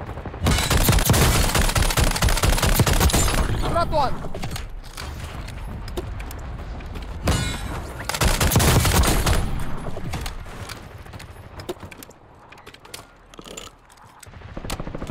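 A RAAL MG machine gun in Call of Duty Black Ops 6 Warzone fires long loud sustained bursts, stops, then fires another heavy burst, with scattered distant shots and mechanical clicks between and a short spoken phrase.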